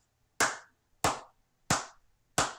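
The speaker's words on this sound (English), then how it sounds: "That's a clap from me." Four sharp hand claps at an even, unhurried pace, each a crisp, close smack with a short decay, separated by near silence.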